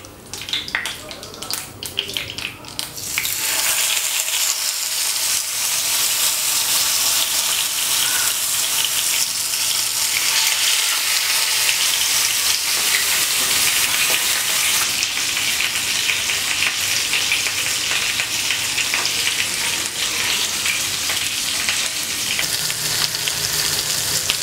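Karimeen fish and curry leaves hit hot oil and set off a loud, steady sizzle and crackle that runs close and unbroken after a brief quieter start.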